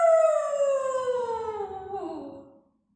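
A person's voice imitates a werewolf howl during a Halloween yoga session, one long sustained wail that slowly slides downward in pitch for about two and a half seconds before cutting off into silence.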